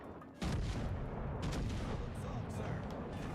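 Naval artillery shells firing in World of Warships Legends, a heavy booming volley that starts abruptly and then holds as a dense, sustained rumble of gunfire and blasts with faint voice underneath.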